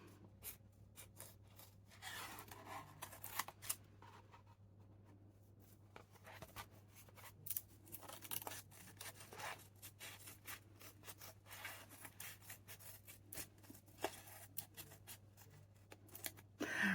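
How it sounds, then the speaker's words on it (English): Paper is cut around the edge of a journaling page with scissors, giving soft intermittent snips and rubbing scrapes, close and fairly quiet, alongside a low steady hum and no speech. "so you cut all the way around the edge"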